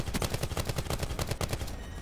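Enemy gunfire in Black Ops 4 Blackout, the battle-royale shooter, from a player on a nearby rooftop: a rapid automatic burst of a dozen or more sharp shots in even rhythm, moderately loud.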